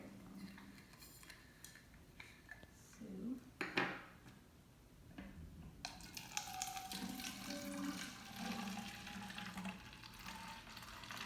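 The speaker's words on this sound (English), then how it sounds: "we're going to fill it 3/4 of the way with water" Quiet water running from a tap into a container, with a few clinks and knocks of handling in between.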